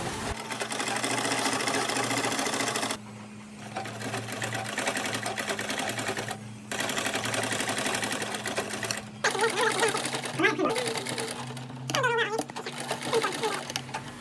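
Cotton umbrella-cut frock stitched on a sewing machine, the steady motor whir running in long bursts with two brief pauses, close and fairly loud, with faint chirps in the background.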